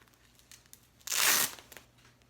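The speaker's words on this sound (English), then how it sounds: "So I'm about to unwrap it right now." A hair wrap on relaxed, flat-ironed hair is pulled loose in one close, loud tearing rip lasting about half a second, with faint rustles and crinkles before and after.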